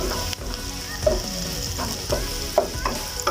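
Cabbage frying in a generous amount of oil gives a steady close sizzle, broken by faint scrapes and clinks as it is stirred in the pan.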